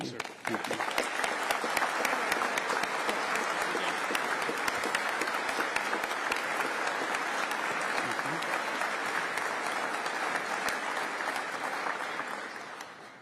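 An audience applauds at a military command event with the Defense Secretary greeting troops. Dense, sustained clapping from many hands runs for over ten seconds with a faint voice beneath it, then tapers off at the end.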